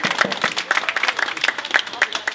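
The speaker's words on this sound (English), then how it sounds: "Let's have a round of applause, please" Crowd members at an outdoor protest in Washington, D.C. against WellPoint clap in a short burst of loose, uneven applause with individual hand claps standing out and some voices mixed in.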